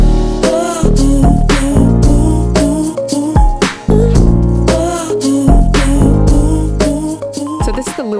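A loud electronic beat with shakers, snare hits and synth plucks, mixed with a pitch-shifted, formant-shifted recording laid over the rhythm; no talking.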